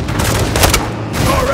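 Loud Call of Duty: Modern Warfare II combat in which a rocket launcher shot strikes an enemy amid a dense, continuous roar of gunfire and blasts, close and forceful throughout.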